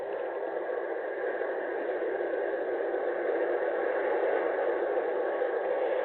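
Soothing ocean waves crash in a steady, even wash of surf, a soft continuous roar with no talk over it.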